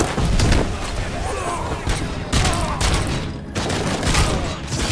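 Dense gunfire and explosive booms in the first-person shooter Robocop Rogue City, a near continuous barrage with heavy low-end thuds and bursts over about five seconds, with faint voices underneath.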